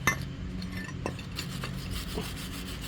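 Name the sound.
wire brush scrubbing car brake caliper bracket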